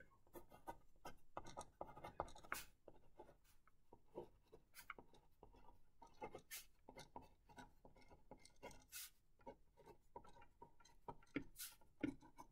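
Handwriting close by, with a pen or pencil scratching in quick, irregular strokes and small taps against the surface, continuing steadily for several seconds without speech.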